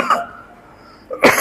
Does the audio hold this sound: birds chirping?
no